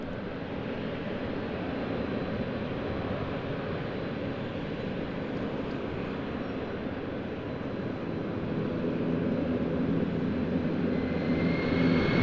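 An ITA Airways Airbus A320 taxis and takes off from runway 28, its engines a broad, steady roar that grows slightly louder toward the end, heard alone.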